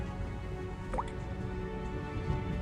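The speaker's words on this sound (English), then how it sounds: "There's this soft dripping sound." Blood drips softly as a sound effect: a single faint, wet drop stands out over a low, steady background hum, with no voices.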